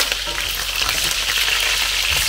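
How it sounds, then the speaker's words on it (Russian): Meat for lagman sizzles steadily in a hot pan, a loud, continuous frying hiss with no pauses and no talk. "Пока мясо жарится"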